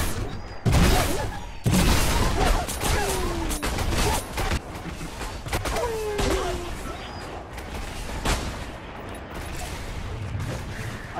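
Grenade launcher explosions in the Fortnite High Explosives game mode, heard as a string of loud, sharp booms and crashing bursts packed closely over about eleven seconds, with brief gaps between some blasts.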